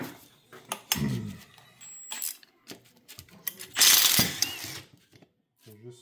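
A nut comes off the roller support arm of a Spyder HD paint roller, giving metallic clicks, ratchet-like turning and scraping handling noise at close range, with a loud rustling burst partway through and brief pauses between.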